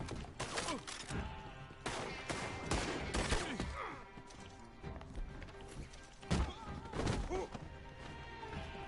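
Repeated gunfire from a Maxim machine gun in the online mode of Red Dead Redemption 2, arriving as several loud bursts and sharp shots with horse hoofbeats and game noise around them.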